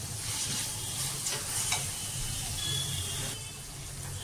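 Spices sautéed with salt, sugar and chilli in a pan: a soft continuous sizzle with occasional spatula scrapes and stirring, fairly quiet, no voices.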